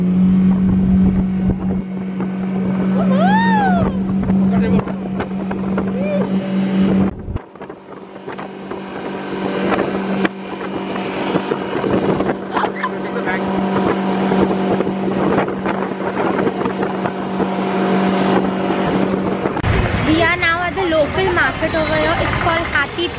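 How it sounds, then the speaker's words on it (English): A speedboat engine in Udaipur, India drones loudly and continuously over rushing water and wind buffeting the microphone, with voices briefly heard over the noise. "This is a speed boat, by the way, so it's going to be fast."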